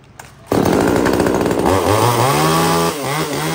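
A small, light one-handed Japanese chainsaw of about 3 kg, its two-stroke engine starting and running loud and close. It revs steadily with a rising and falling pitch, then settles to a lower idle near the end.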